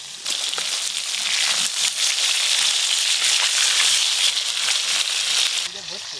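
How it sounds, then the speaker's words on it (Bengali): Silver carp pieces fry in very hot oil, making a loud, dense crackling sizzle that runs nearly the whole time, with sharp pops throughout. It quiets suddenly near the end, where a brief voice is heard. "তেল খুব ভালো করে গরম হয়ে গেছে, এবার মাছগুলো ভেজে নেবো।"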